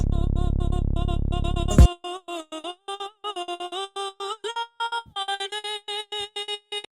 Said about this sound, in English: So the effect that I'm talking about is called a trance gate